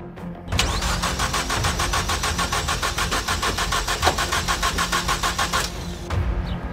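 A rallycross sports car refuses to fire: the starter motor cranks in a long, fast rhythmic churn for about five seconds, then cuts out, followed by another brief cranking attempt, close and fairly loud with no speech.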